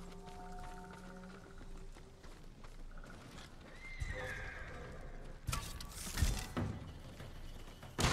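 Samurai horses at the stables in Ghost of Tsushima whinny and neigh, with a few hoof clops and thuds mixed in, the calls varying in pitch and growing louder toward the end.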